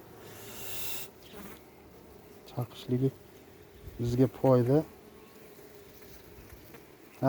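Honeybees buzz around an open hive while a frame is handled, a steady close hum under a man's intermittent speech.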